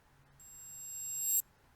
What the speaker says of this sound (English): and I have it in reverse,